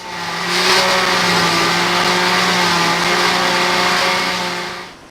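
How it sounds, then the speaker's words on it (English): A blender whips fruits, vegetables and ice into a shake with a loud, steady motor whir that ramps up, holds for about four seconds, then winds down, with no talking. "so I got it all mixed up and blended"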